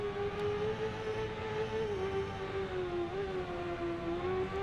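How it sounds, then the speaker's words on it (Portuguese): A BMW S1000RR racing motorcycle engine holding a steady high-pitched drone on a track during a 16-bike race, with the pitch wavering slightly, loud and continuous with no talking. "Tô escutando aí um cara atrás me acelerando."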